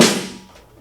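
A single snare drum stroke with the snares engaged, a bright, loud crack with buzzy rattle that decays over most of a second, played alone without talk.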